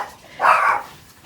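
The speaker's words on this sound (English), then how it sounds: "And then a dog is barking." A dog gives a single short bark at moderate distance, with quiet surroundings before and after and no talk.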